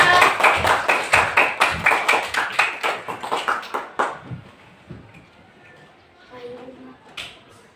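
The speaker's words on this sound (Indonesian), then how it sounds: "Tepuk tangan untuk Adiba." Children clapping hands together in a classroom, a rhythmic unison burst of sharp claps for about four seconds that quickly fades, followed by quieter room sounds and faint voices.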